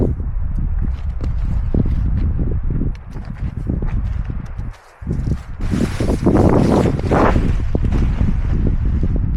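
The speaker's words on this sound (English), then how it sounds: "I am a little bit worried that the wind is going to blow the tripod over," Wind blowing on a mountainside, buffeting the microphone in loud, gusty rumbles that rise and fall throughout, growing stronger toward the end.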